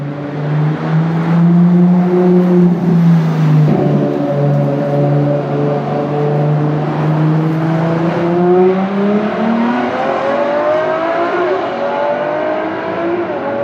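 A Ferrari SF90 Stradale sports car engine drones loudly and close, its exhaust note holding steady then climbing in pitch as it revs up, with no voices.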